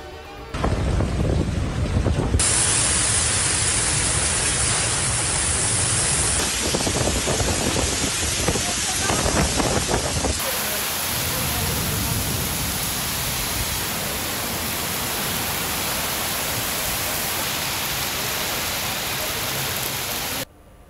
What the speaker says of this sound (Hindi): इस्लामाबाद, रावलपिंडी, अटक और जेहलम में तेज हवा के साथ मूसलाधार बारिश